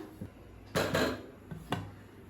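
A metal biryani pot clanks down onto a hot griddle, with a couple of scraping knocks as it is settled in place nearby.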